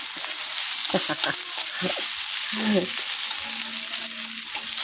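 A metal spoon stirs food in a pan during home cooking, scraping and clinking in short bursts over a steady sizzle, with a brief scraping sweep near the middle, all close and fairly loud.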